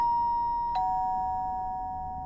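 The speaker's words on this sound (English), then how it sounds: "he's going to ring the doorbell" A two-tone electronic doorbell chime rings once, a high tone followed by a lower sustained tone that slowly fades in a quiet room.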